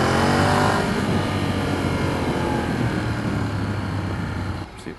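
A Ducati Streetfighter 848 sport motorcycle engine roars loud and steady up close, a droning rumble that holds for several seconds before dropping off near the end.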